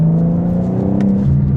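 A 2025 BMW M4 Competition xDrive pulls hard in fourth gear. The turbocharged engine gives a loud, steady, rising drone close inside the cabin, and no one talks over it.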